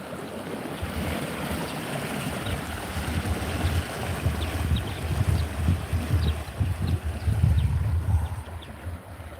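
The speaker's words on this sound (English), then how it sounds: "Oh, the waves are changing. You hear it?" Ocean waves rolling and washing in nearby, a continuous broad surf roar that swells and builds toward the end, with wind buffeting the microphone and no talking.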